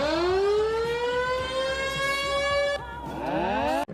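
Tornado siren, a loud rising mechanical wail that holds a high tone, then drops and winds back up again near the end, close and unbroken.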